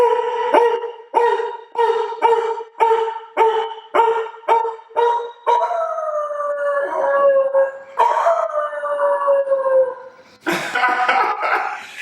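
A man imitates a bulldog with a series of about eight short, rhythmic gruff barks, then longer drawn-out howling whines and a final raspy burst, loud and close with no other talk.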